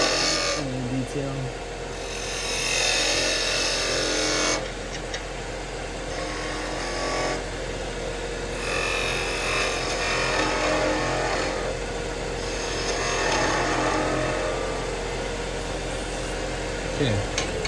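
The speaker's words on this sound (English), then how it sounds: "Okay, let's stop the lathe and see what that looks like." A wood lathe spins a wooden pepper mill blank while a gouge cuts, giving a loud, continuous whirring roar that swells and dips as passes change, with scraping bursts and brief quieter gaps between.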